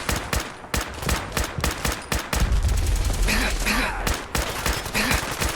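Rapid, dense gunfire in Fallout 4 as a Courser is fired upon: a close, loud stream of overlapping shots with a thicker burst of sustained firing in the middle, and no voices.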